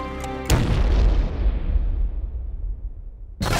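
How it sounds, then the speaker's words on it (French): A violent blast from a rudimentary pipe bomb, a 30 cm metal tube packed with explosive powder, set off during a town festival in Sacile, Italy: one sudden loud boom with a long, fading rumbling tail and another sharp burst at the end. "Une explosion très violente"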